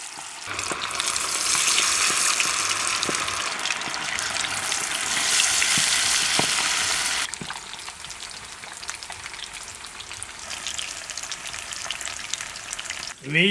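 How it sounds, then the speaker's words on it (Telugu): Garlic chicken kabab pieces crackle and sizzle loudly in hot oil, with a steady dense frying hiss that eases to a softer bubbling partway through. "ఇక మెల్లగా ఒక్కొక్కటి నూనెలోకి వదిలేసుకుందాం"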